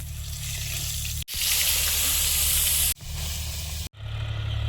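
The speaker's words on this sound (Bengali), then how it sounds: "মাছগুলো ভাজা হয়েছে একবারে দিইনি আর পরের খোলায় ভেজে নেব বাকিগুলো" Tilapia pieces frying in hot oil give a steady, hissing sizzle that comes in several abruptly cut stretches, one much brighter and louder than the rest, over a low background hum.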